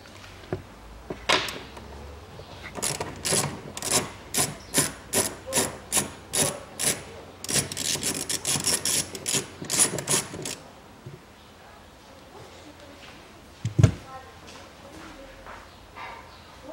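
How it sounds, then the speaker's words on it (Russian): A wrench working 14 mm nuts loose on the rear strut of a 2004 Toyota Harrier, a regular run of about a dozen sharp ratcheting clicks and scrapes, then quieter handling and a single knock near the end. "Так, откручиваем здесь три гайки."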